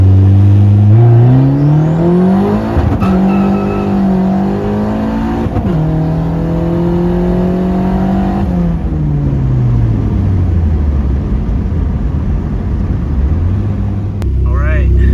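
A turbocharged Honda D16 engine pulls at full throttle, its loud rising drone climbing in pitch through several gear changes before settling into a lower, steadier roar.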